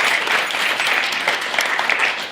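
Steady applause from an audience at a tribute gathering, a dense wash of hand claps that fades slightly at the end.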